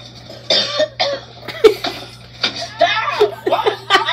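Several short coughing bursts from a person who says he feels sick, loud and close, mixed with laughter and broken bits of talk in a home setting.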